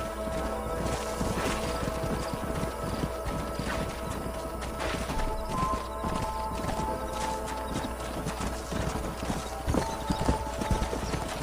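Horses' hooves clip-clopping steadily in Red Dead Redemption, several animals walking over a rough ground bed with occasional snorts and creaking tack, continuous and fairly close.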